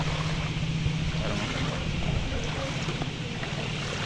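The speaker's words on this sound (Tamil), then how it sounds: "சரியான பாய்ச்சல் தான் தண்ணி பாய்ஞ்சு கொண்டே இருக்குது" Floodwater from Cyclone Fengal in Achchuveli rushes steadily, a loud, continuous broadband roar close to the microphone with wind buffeting and a low hum, and no clear voices.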